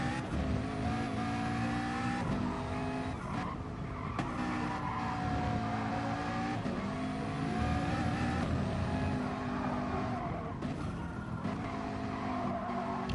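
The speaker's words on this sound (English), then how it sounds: "Just hear that engine sound from the Mazda." An onboard Mazda race car engine at Fuji during an endurance race, revving loud and close without a break, with its pitch rising and falling through gear shifts and corners. No one speaks.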